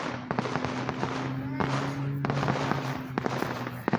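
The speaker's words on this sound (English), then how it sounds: "And we will keep seeing the fireworks." New Year 2024 fireworks popping and crackling in repeated sharp bursts, with a low tonal hum underneath and people speaking faintly in the background.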